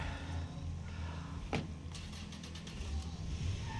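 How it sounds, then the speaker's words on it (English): A car in the zombie survival game State of Decay 2 idles with a steady low rumble, broken by a single sharp door thunk about midway, followed by faint light clicks. "Back in car."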